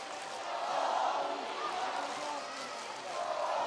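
A basketball arena crowd at a FIBA 3x3 youth nations league event during a timeout, a sustained roar of cheering and shouting that rises and falls slightly, heard at a distance under speech.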